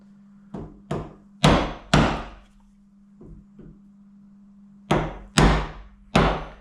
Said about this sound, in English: So yeah, nice big sharp chisel. You just want to be just on the lines.